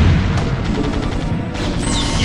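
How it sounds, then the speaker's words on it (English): Explosion effects boom in a strategy video game, a dense run of loud crashing blasts and rumbling impacts layered over one another, with no clear break between them. "We've added a very fancy new explosion effect"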